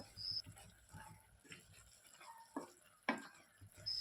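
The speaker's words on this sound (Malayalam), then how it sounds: "ഇനി അടപ്പ് തുറന്നതിന് ശേഷം ഒരിക്കൽ കൂടി നന്നായിട്ടൊന്ന് ഇളക്കി കൊടുക്കാം" Egg curry gravy simmering in a pot is stirred with a utensil: quiet, scattered scrapes and knocks against the pot over a soft bubbling sizzle, heard close up.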